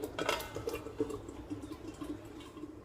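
A lid is set onto a cooking pot of raw pointed gourd (potol), giving a few light metallic clinks and taps amid faint kitchen clatter, close and fairly quiet.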